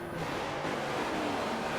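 Racing cars in a BMW M3 GT2 sim race at Road Atlanta roar together at the start, a dense, continuous wall of engine noise with no clear gaps.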